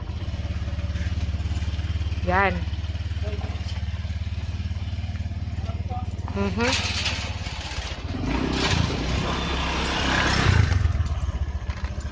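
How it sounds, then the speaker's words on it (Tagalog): A heavy motorcycle loaded with a box idles with a low steady rumble, with clattering and a few revs, while people talk close by. "Mabigat kasi itong motor na ito mga kabisnes dahil sa box eh."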